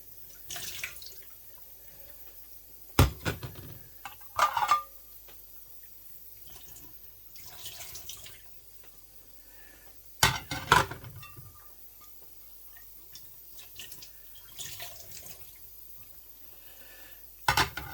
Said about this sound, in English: we're going to need some plates and rinse them in cold water